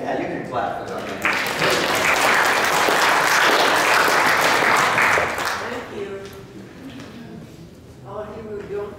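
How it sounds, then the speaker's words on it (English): A church congregation at a Sunday service bursts into loud clapping after a birthday song, lasting several seconds before fading, with voices speaking before and after the applause. "Yeah, you can clap for that."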